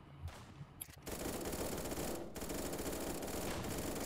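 Automatic rifle fire in the online shooter game 1v1.lol, a dense, loud burst of rapid shots that rolls on continuously after a brief quieter start, with no talking.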